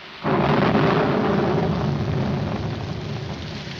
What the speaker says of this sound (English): Put this top up. It's going to rain.